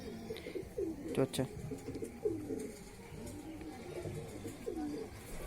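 Pigeons at a loft give soft, rolling coos, repeating several times at a relaxed pace close by, with a brief spoken word partway through.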